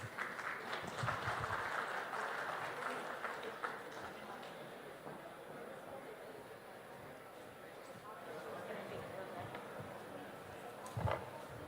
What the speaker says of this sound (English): a big round of applause for the final session of the day.